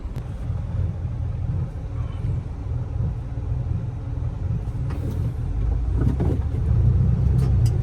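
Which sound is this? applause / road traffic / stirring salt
road traffic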